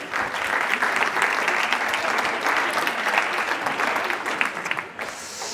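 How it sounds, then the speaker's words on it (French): Loud, dense audience applause at an evening science talk on hypnosis, sustained throughout with a brief dip near the end. "on peut les applaudir"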